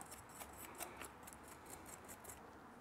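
Pruning shears snip through a bunjin pine root in a quick series of crisp, closely spaced clicks and cuts, faint and near, with no talking.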